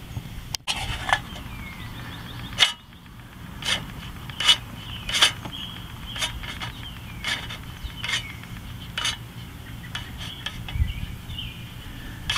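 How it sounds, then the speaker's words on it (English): Replacement starter rope retracting into the recoil cover of a Snapper Big 6 Ninja lawn mower, model FRP216012, giving a steady low rubbing whir broken by a series of sharp ratcheting clicks and taps, close and alone. "Now we can release my vice grip pliers here and slowly let it retract in."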